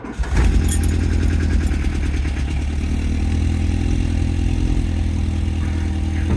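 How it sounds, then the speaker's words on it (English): A 1990 Volkswagen Mk2 Golf GL cold start: a short crank then the engine catches and settles into a loud, steady, low idle heard close up, with no talk. "All right, cold start."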